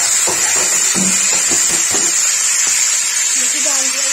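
Peas and potatoes sizzle loudly in hot oil with cumin, a constant bright hiss with stirring clatter throughout and speech faintly underneath.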